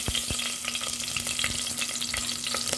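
Pork pieces sizzle and fry in hot oil in a pan, a steady close crackle with intermittent scraping stirs and a faint tonal hum underneath.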